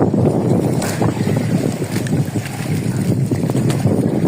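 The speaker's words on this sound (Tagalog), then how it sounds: "malakas yung hangin tsaka alon" Strong wind buffets the microphone with a constant low roar, and waves slosh and splash steadily throughout on a fishing trip, loud and close.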